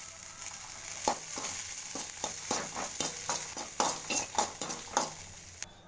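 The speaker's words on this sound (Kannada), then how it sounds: "ನಂತರ ಕರಿಬೇವು ಸೊಪ್ಪು ಹಾಕಿ ಚೆನ್ನಾಗಿ ಮತ್ತೆ ಬಾಡಿಸ್ಬೇಕು" Curry leaves sauté in a hot pan with a steady sizzle, while a utensil scrapes and stirs in a quick, repeated rhythm of close clacks against the pan.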